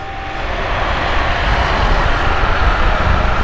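A fixed-wing airplane passes overhead in Benin, its engine rumble loud and broad, swelling steadily as it nears with no speech.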